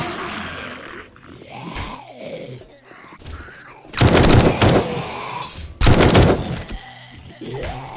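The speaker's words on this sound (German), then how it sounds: "Und dann knallen wir einfach mal das ganze Magazin da rein." Automatic gunfire in the game 7 Days to Die as a whole magazine is emptied: two loud, dense bursts of rapid shots, with a quieter stretch of game ambience before them.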